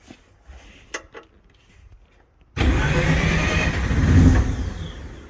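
A 12A turbo rotary engine in a Datsun 1200 barks into life partway through and then revs loudly and steadily, swelling near the end, after a quiet stretch of faint background noise.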